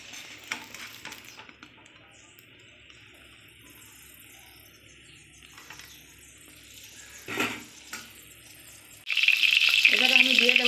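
Cut potatoes hit hot oil in a pan used for pointed gourd, and a sudden loud sizzle bursts out near the end after a quieter stretch of faint kitchen sounds.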